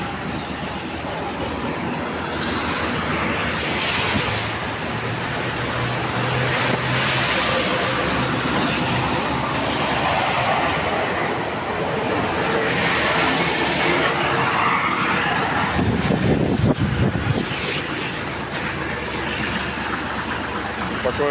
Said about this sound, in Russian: Такой вот мини-трактор Kubota GL21